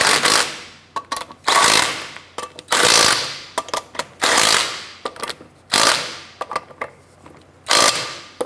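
Impact tool snugging lug nuts on a 2006-2013 Chevrolet Impala front wheel, heard as a series of loud, close rattling bursts of about a second each, separated by short pauses and small clicks.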